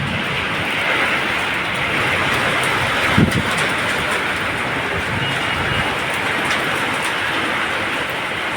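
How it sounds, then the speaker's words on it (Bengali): Hailstones drum steadily on a tin roof in a dense, continuous patter that stays loud and even throughout, with no voices. "এই টিনের মধ্যে পড়ে গেলে আওয়াজ হচ্ছে খুব সুন্দর"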